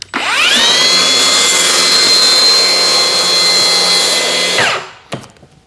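A track saw spins up with a rising whine, cuts steadily through a laminate strip in one loud continuous pass, then winds down and stops, followed by a few light clatters.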